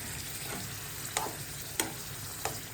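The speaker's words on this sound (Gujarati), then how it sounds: "હવે આપણે એમાં થોડુંક એવું પાણી નાખીશું" Pav bhaji masala with Everest spice mix sizzles steadily in a pan as water goes in, a soft continuous frying hiss broken by a few sharp spoon clinks against the pan.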